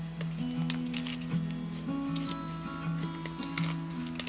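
Scissors snipping through crepe paper while making paper rosettes, a run of quick close cuts with soft crinkly rustle, steady and near with no talking.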